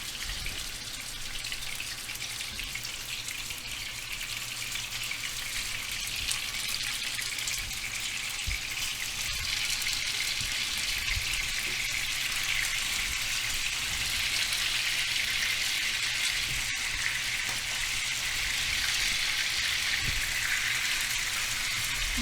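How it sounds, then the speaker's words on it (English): Steady crackling sizzle of beef rolls frying in a pan, continuous and fairly close, with occasional small pops and no talking. "Sizzling noise."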